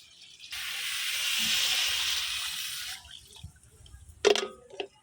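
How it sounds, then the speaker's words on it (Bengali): Water poured into a hot pot of fried rice and beans for beef khichuri, a loud hissing sizzle that swells for a couple of seconds and then cuts off, followed by a few faint clinks and stirring knocks. "এখন দিয়ে দিব পানিটা।"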